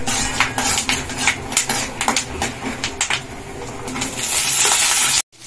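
Fresh coconut tipped into hot oil with peanuts in a frying pan, a dense, close crackle of frying with a spoon knocking and scraping the metal pan, ending abruptly.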